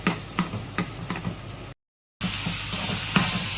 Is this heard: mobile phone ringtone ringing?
no